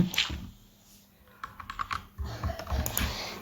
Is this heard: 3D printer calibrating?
no